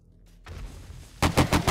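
A burst of rapid gunfire from the video game 7 Days To Die (Ravenhearst), four loud sharp shots in quick succession after a short stretch of quieter background noise.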